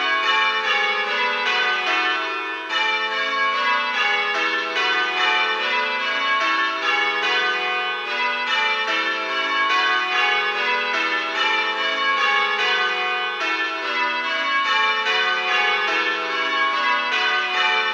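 A ring of church bells sounds Little Bob Minor, striking in a steady unbroken rhythm of bright overlapping tones, full and near throughout, with nobody speaking.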